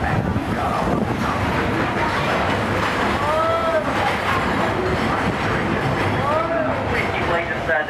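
A Walt Disney World Railroad train rolling along: a loud, steady rumble of wheels on track with squealing wheel tones and wind, continuous throughout, with a faint voice mixed underneath.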